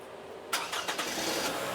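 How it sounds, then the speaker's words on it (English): A Toyota RAV4 with a faulty air conditioner cranks and catches, a sudden burst of starter whirr giving way to a steady close engine idle after a quiet moment. "Now start the engine, turn on the AC."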